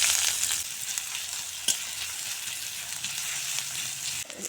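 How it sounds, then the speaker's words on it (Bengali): Chopped onion frying in hot oil in a wok, a dense, close, continuous sizzle with a sharp spatula knock partway through and a few faint scrapes, no speech. "পেঁয়াজ ভেজে নিয়েছি"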